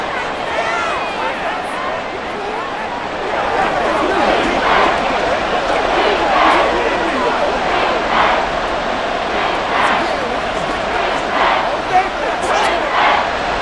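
A stadium crowd roars and cheers at a Madden NFL 24 game between the Chicago Bears and Washington Commanders, a broad swelling wash of noise with commentators talking over it.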